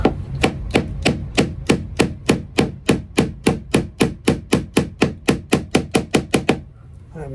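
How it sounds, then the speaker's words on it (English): A hammer striking steadily during squealer installation, about two dozen loud, evenly spaced blows at a fast regular rhythm, close by, then stopping. "Gotta get your hammer on."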